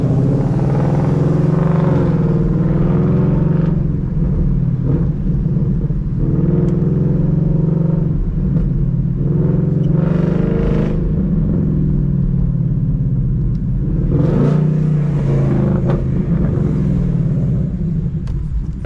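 A 2023 Ford Mustang Mach 1 with long tube headers and a catless exhaust drones loudly from inside the car while driving, its deep rumble rising and falling with several throttle swells.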